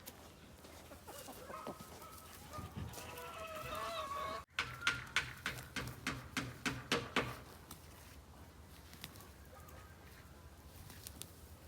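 Chickens on a farm in Serbia cluck and squawk close by, with a run of sharp, rhythmic clucks in the middle over a quiet outdoor background.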